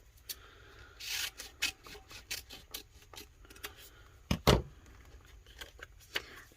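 Cutting vinyl decal film on an epoxy-coated tumbler: short scraping and snipping strokes, close and fairly quiet, scattered irregularly with one louder rasping cut near the end, no talk.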